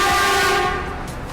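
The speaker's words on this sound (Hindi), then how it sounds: "सो अभी फ़िलहाल में ये निकलेगी इंस्पेक्शन स्पेशल, और उसके बाद आएगी पोरबंदर हावड़ा सुपरफास्ट।" An Indian Railways train sounds a sustained, loud, tonal horn while passing through Vatva railway station, the blast ringing clearly at the start and fading away as it goes by.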